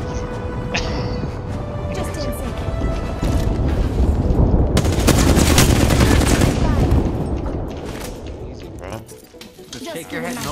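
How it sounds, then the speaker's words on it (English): Bursts of rapid gunfire in Apex Legends, loud overlapping volleys that swell into a dense fusillade midway before easing, mixed with a player talking throughout. "I'm getting shot at."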